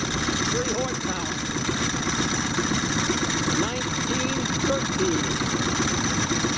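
A Faro 3 horsepower outboard motor on a 1913 Mullins Special boat runs at a steady idle-like putter, continuous and fairly close, with faint voices over it.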